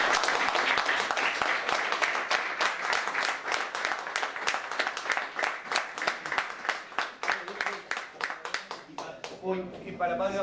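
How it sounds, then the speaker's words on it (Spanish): A crowd at a family gathering gives sustained applause for Pablo and Yara, steady rapid clapping that runs for about nine seconds before voices take over at the end. "les puedo pedir un gran aplauso para Pablo y para Yara"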